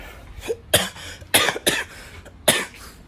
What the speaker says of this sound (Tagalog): At dahil inuubo ako